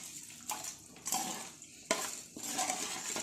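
A spoon stirs rock salt and turmeric through a liquid in a metal pot, scraping and clinking in several uneven bursts with faint watery sloshing, close and fairly quiet, no voices.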